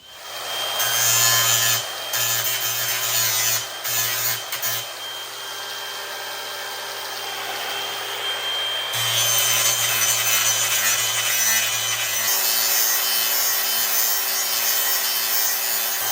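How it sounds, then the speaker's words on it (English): An angle grinder with a sanding disc grinds down a Starlink flat mount, a loud harsh whine with brief breaks early on, then a sustained abrasive roar. "I'm gonna switch out this cutting disc for a sanding disc"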